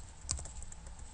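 Python code typed on a computer keyboard, a brief run of soft key clicks with one sharper keystroke, quiet and alone.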